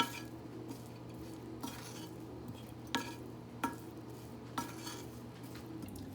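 Salmon, brown rice and chopped mint being mixed in a pan, with a soft background sizzle and a few sharp utensil scrapes and clinks against the pan, spaced irregularly, close by, without talk.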